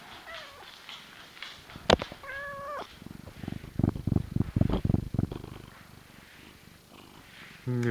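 A cat meows briefly, then a soft, close purr pulses in a steady rhythm for a few seconds before fading, with faint background noise and a short sound at the very end.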